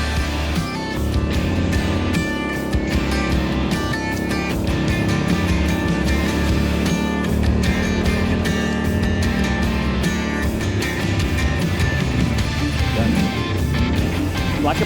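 A car engine revs and pulls away on a snowy street during a winter storm in Texas, a steady loud drone with rising gas over continuous rumble.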